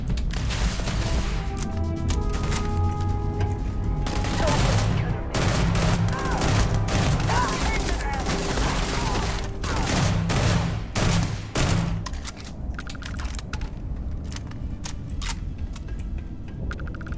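Rapid bursts of gunfire from the video game Starfield crack over a dense, continuous game soundscape and music, with dense firing through the first twelve seconds and sparser shots after.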